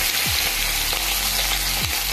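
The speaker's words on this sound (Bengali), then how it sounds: "চিংড়ি মাছগুলো আমি অল্প অল্প করে ছেড়ে দিলাম।" Cleaned prawns fry in hot oil, a dense, loud, continuous sizzle close by with a few soft clinks of a utensil, no voices.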